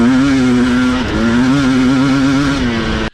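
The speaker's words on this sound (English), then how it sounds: "when you twist the throttle, the thing, it rips" A 2022 Husqvarna TE300i two-stroke dirt bike accelerates hard as the throttle is twisted. The engine note is loud, close and rising, with a quick wobble in pitch, then cuts off at the end.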